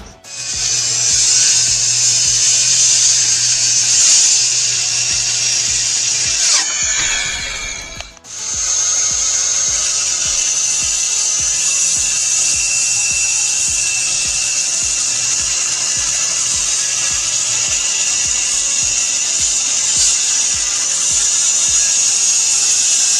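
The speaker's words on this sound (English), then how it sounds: "the bit you see on the drill is called a hole saw bit" A power drill fitted with a hole saw bit cuts through material during house renovation work, a loud, steady high-pitched whine that briefly stops and restarts before grinding on continuously, close to the microphone, without talk.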